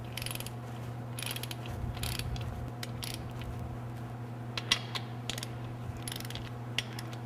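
Ratchet clicks from snugging a crankshaft main bearing cap on an Oldsmobile V8 during an engine build, a few sharp ticks scattered over a steady low shop hum.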